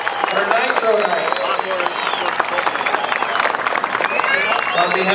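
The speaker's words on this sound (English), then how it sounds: "Let's give them a big round of applause so they come back next year for Nitro Night." A crowd at an outdoor Nitro Night car event claps and cheers for the teams, a dense, loud wash of applause with whistles and shouts running throughout.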